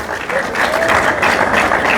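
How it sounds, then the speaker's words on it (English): Audience applause at a university colloquium marking an anniversary, a dense steady patter of many hands heard close, with voices faintly under it. "you will not clap well"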